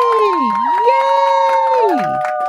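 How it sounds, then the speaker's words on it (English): Children cheer and shout together in a bright, continuous burst of joyful voices with rising and falling whoops, filling the whole moment without pause. "I hear cheering."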